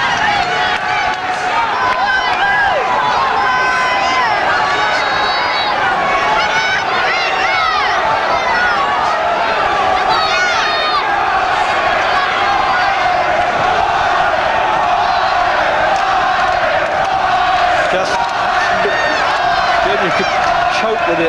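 A boxing arena crowd at a world championship bout roars and cheers continuously and loudly, with whistles, shouts and clapping mixed into a dense, sustained wall of noise while a commentator talks over it.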